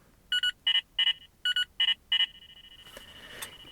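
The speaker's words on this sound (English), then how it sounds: "You can hear that the new Bogey alert tone is loud to get your attention." Valentine V1 Gen2 radar detector sounding its new Ka-band bogey alert: six loud, evenly spaced electronic beeps, then a sustained tone fading into static-like noise.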